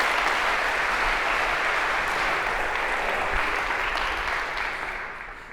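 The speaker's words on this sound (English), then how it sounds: "A round of applause for our volunteers." Audience in a university lecture hall applauds volunteers called to the stage, a dense steady wash of clapping that carries on throughout and tapers slightly at the end.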